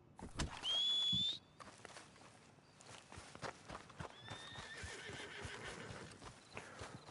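A horse in the video game Red Dead Redemption 2 gives a loud, shrill whinny early on, followed by clip-clopping hooves and a second, softer neigh amid game ambience.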